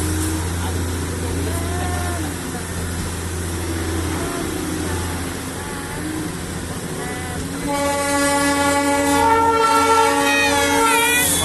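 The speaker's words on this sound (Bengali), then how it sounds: "10 মিনিট বাদে আবারও ট্রেনটা ছেড়ে দিল। এখন আমরা ঘুম স্টেশনের দিকে যাচ্ছি।" The Darjeeling toy train rolls towards Ghum station with a steady, close rumble, and a sustained, tonal horn or whistle rises over it near the end.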